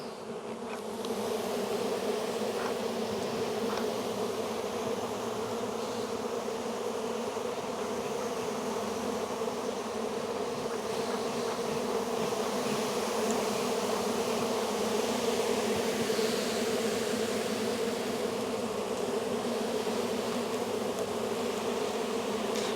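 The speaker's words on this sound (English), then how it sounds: "So many bees." Honeybees swarm and buzz densely around a massive, heavily populated hive during a spring inspection, a steady, close, continuous hum that fills the air without a break.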